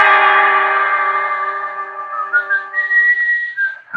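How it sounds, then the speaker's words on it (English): A man whistles alone in an empty building in the small hours, heard in a 1950s radio mystery drama: a long sustained tone that then slides into a brighter, wavering tune, clear and close with no talk. "And then I heard the whistling."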